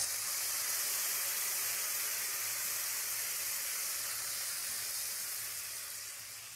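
Lemon juice hitting a hot pan of frying chopped ginger and garlic for lemon pepper chicken, a loud steady hissing sizzle that holds for several seconds and eases off slightly at the end, with no talk.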